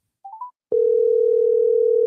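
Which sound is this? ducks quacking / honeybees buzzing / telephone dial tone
telephone dial tone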